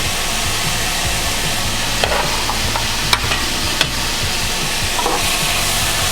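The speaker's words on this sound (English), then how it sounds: "Give a nice stir." Spiced vegetarian quesadilla filling is stirred in a hot frying pan, a continuous loud sizzle with scraping and a few sharp clicks of the spoon against the pan.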